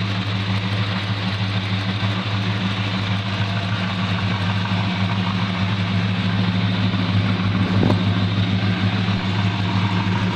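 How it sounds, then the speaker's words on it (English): A 1969 Plymouth Roadrunner's stock engine idles steadily through a Flowmaster exhaust, a deep, even rumble held close and loud for the whole stretch with one brief blip near the end. "I'll show you the engine running."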